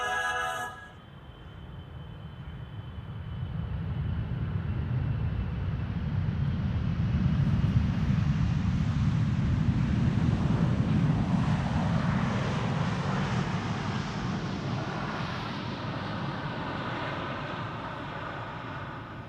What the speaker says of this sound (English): First wide body of the show, KLM 592, arriving from South Africa.